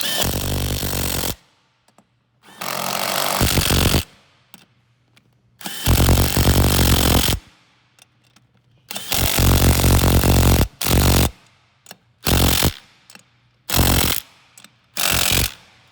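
Power tool tightening front wheel nuts on a Venom 125cc mini jeep: loud close whirring bursts of varying length, about eight in all, separated by short silences.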